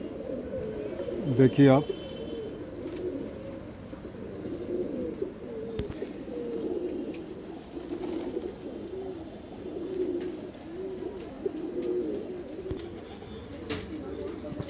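Pigeons coo in soft, repeated rounds close by. Someone speaks Hindi over the birds, and a louder bird call breaks in early on.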